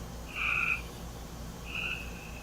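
Frogs call from a backyard at night: two loud, shrill, drawn-out trills, close by, over a low constant background hum, with no talk.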